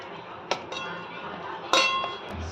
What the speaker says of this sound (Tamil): அதுக்கப்புறம் தேங்காய் போடணும். நல்லா கிண்டி விடணும்.